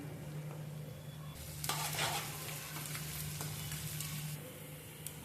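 Ajwain (carom seeds) fry in a pan with a soft, steady sizzle and a low hum, while a burst of stirring scrapes and crackles rises in the middle before the sound settles back to a quiet fry.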